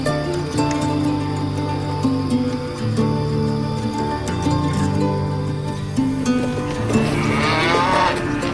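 Cattle on an Australian beef farm moo loudly and nearly continuously, several animals overlapping in long low calls close by, with no speech.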